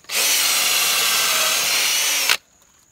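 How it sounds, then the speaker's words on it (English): A power drill bores a hole into a mushroom log outdoors, one loud, continuous whining run of about two seconds that cuts off abruptly into near quiet. "She's drilling."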